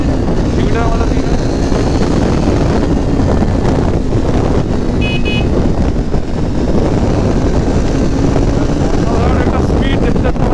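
A Triumph Speed 400 motorcycle pulls away in first gear and keeps riding, its engine drone rising and falling beneath heavy wind buffeting on the rider's microphone, with a voice talking over it.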